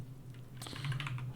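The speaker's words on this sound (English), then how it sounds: "if we type in Bob D and" Keys tapped on a computer keyboard while logging into a hacking game, a quick burst of clicks starting partway in over a steady low electrical hum, close and moderately loud.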